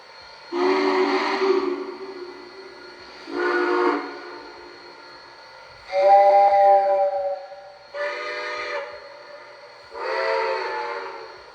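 Five separate blasts of a steam whistle from a Lionel Visionline Hudson 5344 model locomotive, each lasting one to two seconds with short pauses between, loud and clear against a quiet background.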